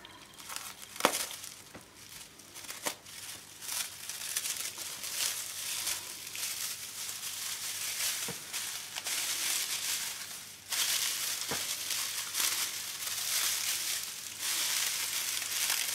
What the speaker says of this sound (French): je vais prendre du raffia. Je suis obligée de couper ça.